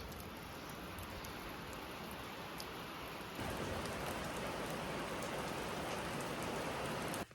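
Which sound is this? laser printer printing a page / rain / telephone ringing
rain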